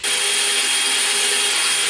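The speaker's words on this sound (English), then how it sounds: "I did just make a punch mark in here, and I'll just drill it out." An electric drill boring out a punch-marked hole in metal for an LS swap radiator mount, a loud, steady high whine held at full speed for about two seconds, close up and alone.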